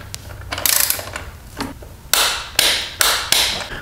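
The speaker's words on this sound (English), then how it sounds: "we'll tighten it to 16 pounds feet of torque" A torque wrench tightens an exhaust bracket bolt on a 2022 Yamaha MT-07 during an Akrapovic full exhaust install, giving a series of sharp ratcheting clicks and metallic taps, close and fairly loud, with four distinct bursts in the second half.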